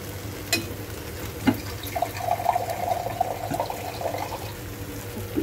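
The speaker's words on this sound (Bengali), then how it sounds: "একটু জল দিয়ে দেবো।" Water poured into a pan while cooking makes a steady splashing trickle under kitchen background noise, with a few sharp clinks and a brief rising pour sound in the middle.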